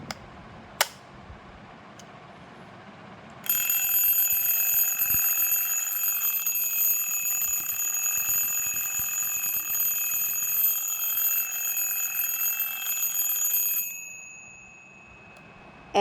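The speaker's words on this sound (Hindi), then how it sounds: "इसमें डालते हैं अब सेल और बजाते हैं इसे" A battery-powered wind-up style alarm clock bell for a kitchen rings in a continuous bright metallic trill for about ten seconds, loud and close, then cuts off, preceded by a faint click.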